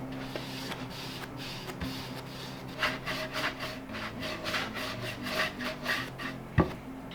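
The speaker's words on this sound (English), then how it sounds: "and then buff it off" A cloth buffs wax off a milk-painted treadle sewing machine in a series of soft, rhythmic rubbing strokes. The strokes are close and fairly quiet, with one sharper knock near the end and no talk.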